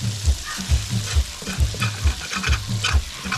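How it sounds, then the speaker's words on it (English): A spoon scrapes and stirs rhythmically through sizzling fried sweet potato and boiled ground provisions in a hot, non-non-stick pan, with regular knocks against the pan bottom roughly every half second. "I like all that burnt stuff at the bottom here and mix it up with this sweet potato"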